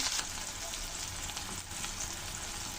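Potatoes frying in a pan with chopped tomato for Kashmiri dhoka give off a steady, close sizzle that holds its level with no pauses from start to finish.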